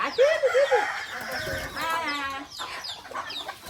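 Chickens and a rooster eating their morning feed on a Bengali home farm, giving a few close clucks and calls that overlap one another, with other farmyard sounds.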